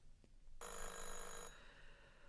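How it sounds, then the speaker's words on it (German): A telephone bell in an audio drama rings in one short burst of about a second, bright and metallic, against a quiet background. "klingelte das Telefon."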